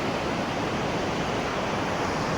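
A river rushes beneath a bridge in Manikaran, making a steady, dense roar of flowing water that continues unbroken throughout.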